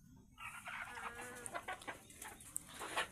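Chickens cluck and chatter near their coop beside a house, a soft, busy run of overlapping calls from a few birds at a moderate distance, faint overall with no talking.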